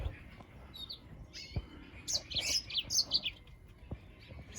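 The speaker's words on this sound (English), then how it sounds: "He's got a couple green singing finches that are beautiful singers." Small finches, including green singing finches, chirp and twitter in a large aviary, with bright clustered calls in bursts, thickest in the second half, over faint background rustle.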